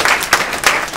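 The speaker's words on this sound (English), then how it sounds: "Give them a round of applause." Short burst of audience applause at a corporate training session, a few loud clusters of clapping swelling and fading across about a second.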